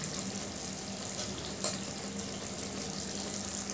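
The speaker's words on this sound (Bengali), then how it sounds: "এবার ঘি গরম মশলাটা ভালো করে মিশিয়ে দেবো।" Ghee and garam masala are stirred into an egg curry in a hot pan, giving a steady, even sizzle throughout with one small clink of the spoon partway through.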